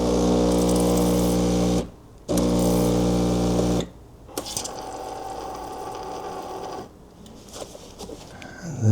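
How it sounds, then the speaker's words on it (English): A Breville espresso machine steam wand frothing milk, a loud steady hissing roar that cuts out briefly, resumes, then settles into a softer gurgling steam near the end, no voices. "Now the milk is frothed in my Breville machine."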